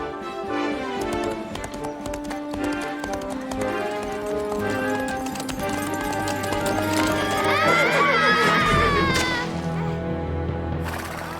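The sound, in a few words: horse galloping away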